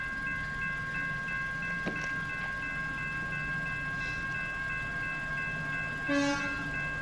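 A hi-rail vehicle running on railroad track, a steady low rumble with faint rail noise, then a brief horn blast near the end; moderately distant, no talk.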